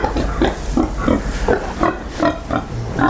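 An American Guinea Hog sow that has just farrowed a litter of piglets grunts in a steady series of short, rhythmic, close-up grunts, loud and unbroken by talk.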